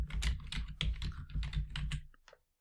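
Quick, uneven clatter of keys being struck on a computer keyboard while a name is typed, close and fairly quiet, tapering off before a brief pause and a final soft tap.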